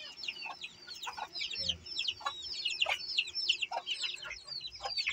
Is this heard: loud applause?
no